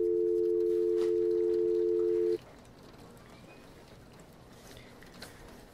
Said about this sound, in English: hurry and call him up. Give me your phone.